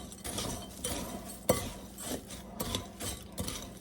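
Stuffing mix being stirred with melted butter in a bowl for Swiss chicken casserole, heard as close, irregular clinks and scrapes of a utensil against the bowl.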